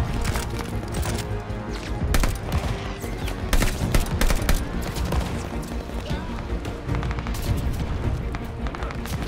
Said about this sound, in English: Oh, shooting me.